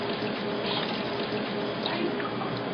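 Water poured off fresh mozzarella curd in a steady, close, loud stream with faint dripping and splashing throughout and no voice.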